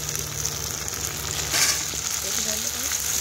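Pasta tipped into a pan of frying onion, garlic and ginger, with a steady sizzle and a brief louder burst as it lands, followed by faint stirring scrapes.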